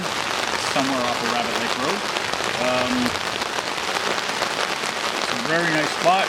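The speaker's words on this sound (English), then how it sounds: "but we're getting torrential downpours" Torrential rain pours down at a forest campsite in the Temagami area, a dense, continuous hiss of drops hitting surfaces close by, with someone talking over it throughout.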